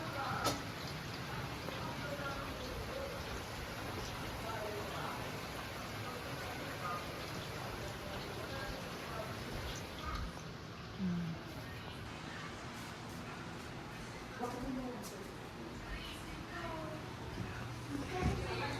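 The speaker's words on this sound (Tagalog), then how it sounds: "It's raining." Rain falls steadily at a campsite, a dense, even patter across the whole stretch, with children's voices and scattered talk faintly mixed in beneath it.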